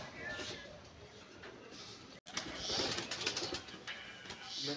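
Giribaz pigeons coo softly in a low, throaty murmur beneath a busy, noisy background, with a brief dropout midway and people talking nearby.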